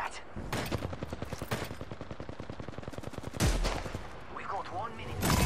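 Sustained automatic gunfire in Apex Legends, a rapid, even stream of shots running for several seconds, then a heavier blast and more firing, loud and close with faint game noise underneath.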